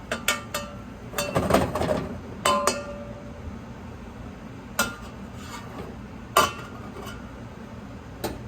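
A spoon clinks against the metal pot while beef stew is mixed, with scattered sharp knocks and scraping in irregular bursts over a quiet background.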